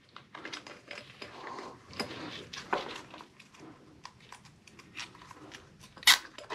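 A 10-inch tubeless tire from a KOMOTO M1100 electric scooter is squeezed tight with a zip tie, producing soft, irregular creaks and crackles of rubber and plastic, with one sharper snap near the end.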